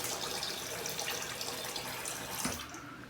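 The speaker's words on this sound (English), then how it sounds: "rinse my face off here." Cold water running from a bathroom tap while a man rinses his face before shaving, a steady close gush and splash into the sink with a brief slosh near the end, no talking.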